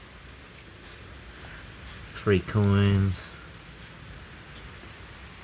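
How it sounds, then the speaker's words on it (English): Steady rain falls outdoors around the perimeter of a yard, a continuous soft hiss with a brief burst of speech rising over it partway through. "Just wait for this rain to ease off"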